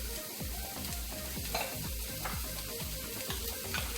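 Yellow onions and celery fry in a pan for vegan wild rice. A steady, moderate sizzle runs under regular low thumps from stirring, with no voices.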